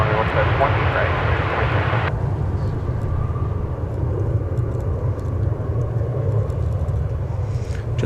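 A fixed-wing airplane roars loudly and steadily on a runway at DFW Airport, a broad engine rumble that stays close and constant throughout, with its high-pitched whine cutting off early while the low drone continues.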